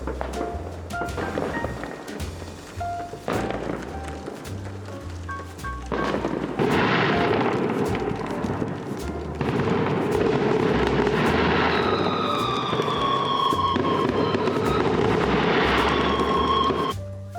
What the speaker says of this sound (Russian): В деревне салюты начинают пускать уже с обеда